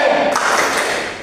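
Schoolchildren do a rhythmic spirit clap together, a quick loud flurry of hand claps filling a brief moment in a classroom.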